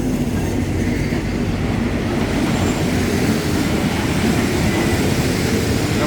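Train 314 from Ban Phachi Junction pulls into Bang Sue Junction station, a loud, steady rumble of rolling railcars with a continuous low roar close by and no pause.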